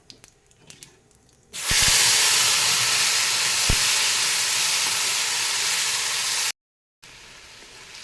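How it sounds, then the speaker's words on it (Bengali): After a few faint clinks, a loud burst of hissing sizzle erupts and holds steadily as ground spice paste hits hot oil with fried bay leaves, with a short gap near the end. "ভাজা হয়ে গেছে, দিয়ে দেবো বাটা মশলা"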